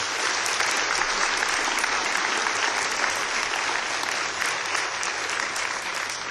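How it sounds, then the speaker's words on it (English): Sustained audience applause at a conference opening, a dense, steady clapping from a large crowd filling the room for several seconds without pause. "What about another round of applause for David and Danny?"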